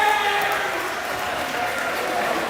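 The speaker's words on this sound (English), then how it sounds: "Let's give them a round of applause." A crowd at a Hicksville homecoming pep rally applauds and roars in a continuous, loud wash of clapping and crowd noise, with a few shouts rising above it.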